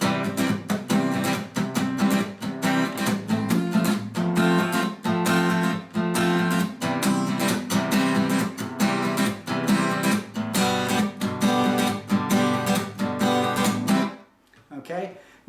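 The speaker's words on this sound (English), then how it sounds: "And then it's just played really fast, so it sounds like this." Fast strummed acoustic guitar playing the verse rhythm of a song, loud, close and driving, with dense even strokes that stop abruptly near the end.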